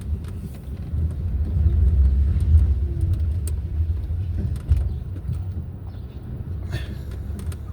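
A car swings through a U-turn on a street near murals, its low engine rumble holding steady and close throughout, with a brief thump partway through and faint background noise.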